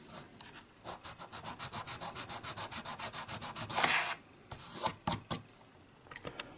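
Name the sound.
sanding down plastic model kit part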